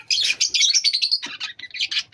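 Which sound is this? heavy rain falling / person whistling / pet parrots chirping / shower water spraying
pet parrots chirping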